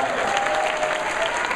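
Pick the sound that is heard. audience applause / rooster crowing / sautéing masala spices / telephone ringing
audience applause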